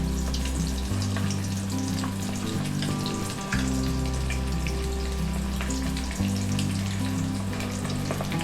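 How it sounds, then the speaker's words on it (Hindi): Tea-time snacks sizzle steadily in hot oil, a dense crackling fry with a low hum beneath that shifts level a few times, continuous and close. "इनको फ्राई करते हैं"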